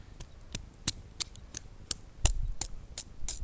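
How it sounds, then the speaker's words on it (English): Dry dead poplar limb wood being split by hand outdoors, a series of sharp crisp cracks and snaps spaced irregularly, close but fairly quiet against a faint background. "it is me just hand splitting some wood"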